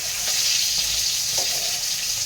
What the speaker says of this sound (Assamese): ভাজিম, এক পিচ ভাজিম।